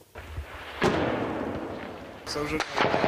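Heavy booming artillery thuds in, followed by a sustained rumble and a later burst of sharp gunfire cracks, loud and close with a roaring backdrop, at a frontline position in Ukraine at nightfall.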